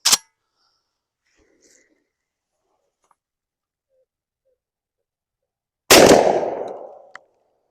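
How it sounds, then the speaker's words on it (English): A shotgun fires a 1 1/8 oz load at a pattern board outdoors, a single sharp loud blast with a decaying echo, preceded by a brief click and followed by a faint metallic tick. "Let's fire this at the pattern board and go count them."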